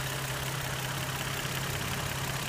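Steady idle of a 2006 Nissan 350Z with its 3.5-liter V6, a smooth low hum with an even rumble, close and constant, with no voices.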